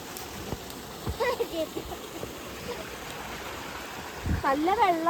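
Waterfall water rushes and splashes in a steady hiss in the background, with voices talking over it and a louder burst of splashing near the end.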